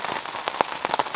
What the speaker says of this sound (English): even though it was raining out a bit